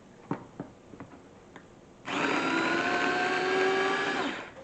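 Light taps come first, then a battery-powered chopper whirs to life and runs steadily for about two and a half seconds as it chops an onion, a close, loud motor hum with no talk.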